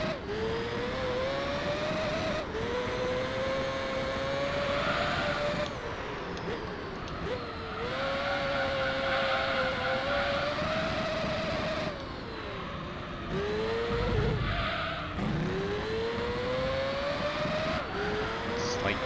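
Car in the Gran Turismo 3 racing game with worn, struggling rear tyres, its engine droning and shifting pitch through corners while the tyres scrub and slide, loud and continuous throughout.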